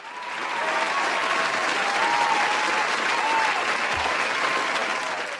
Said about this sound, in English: Big round of applause for everybody here.